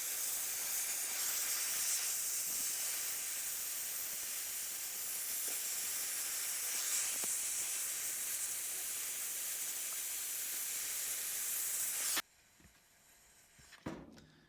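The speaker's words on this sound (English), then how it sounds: "So I had some angle iron here, and it's easiest to cut it with the torch fastest." Cutting torch slicing through angle iron, a steady loud hiss and rush of gas lasting about twelve seconds, then cutting off abruptly into quiet with a brief clank.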